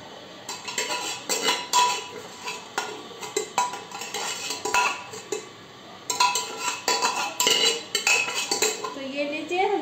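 Metal utensils scrape and clink against a pressure cooker while scooping out cooked lentils, with repeated scooping and tapping sounds close by, pausing briefly midway before continuing.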